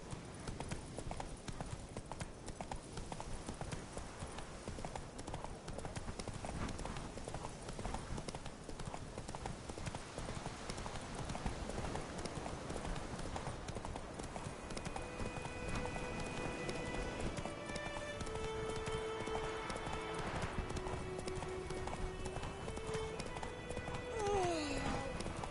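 Horse Roach galloping in The Witcher 3 video game, with steady clip-clop hoofbeats and a dense, continuous rumble throughout, plus occasional whinny-like tones near the end.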